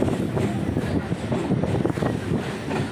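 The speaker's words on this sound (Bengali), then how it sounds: "ক্যানিংয়ের কাছাকাছি ট্রেনও ঢুকছে" A train rolls in near Canning, a loud broad rumble with rattling, uneven clatter and wind buffeting the microphone, continuous and close for the whole stretch.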